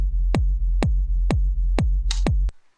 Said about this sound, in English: but the kick sounds like this